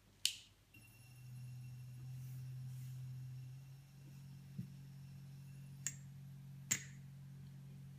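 A handmade Organic Aromas essential oil diffuser runs with its top on, giving a very quiet, low, steady hum that fades partway through, with a few faint clicks and taps near and around it.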